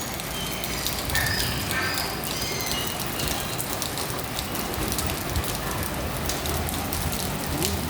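Steady rain pours down, a dense patter of drops on surfaces close by, continuous and fairly loud with no voices.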